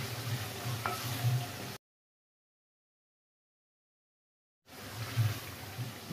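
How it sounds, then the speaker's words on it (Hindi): Yogurt is stirred into frying masala, giving a soft, steady sizzle with gentle scraping. The sound stops abruptly into silence and then resumes. "जो हमने दही डाला है इसको 1 से 2 मिनट तक अच्छे से भून लेंगे जी"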